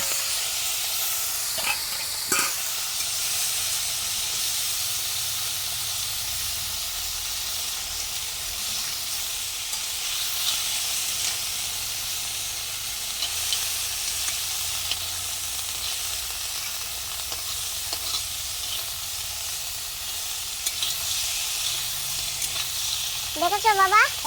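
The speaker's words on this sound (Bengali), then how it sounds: "একবারে দুই ধরনের মাছ ভাজা হয়ে যাচ্ছে কাঁকড়া চিংড়িও ভাজা হয়ে যাচ্ছে আর এ সাইডে মাছও ভাজা হয়ে যাচ্ছে" Crab legs, prawns and bhola and poma fish frying together in one pan, a steady close sizzle and hiss running throughout with a brief clink near the start and a little stirring toward the end.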